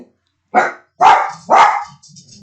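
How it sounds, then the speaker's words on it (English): A dog barks indoors at a neighbor coming home, three loud close barks in quick succession followed by a softer whine or growl. "One of my neighbors came home, so naturally my dog had to freak out."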